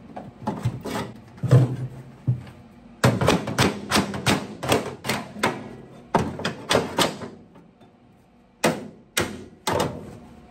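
Metal being banged with a hammer while a patch piece is fitted behind a car's rusty inside rear driver's-side panel: clusters of sharp, moderately loud knocks in quick bursts separated by short pauses.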